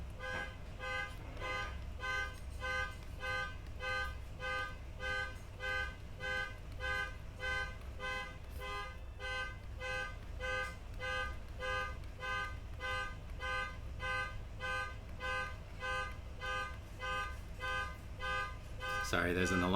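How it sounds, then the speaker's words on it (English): An alarm beeps over and over in a steady, fast repeating pattern somewhere in the background. It carries on unbroken for about twenty seconds at a moderate level. "Sorry, there's an alarm in the background."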